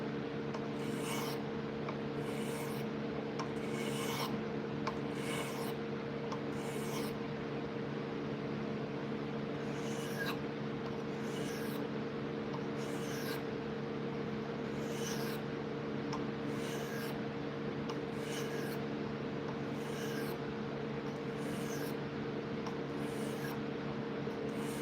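A carving blade is sharpened with short, regular rasping strokes repeated about every second over a steady background hum, faint and close, with pauses between bursts.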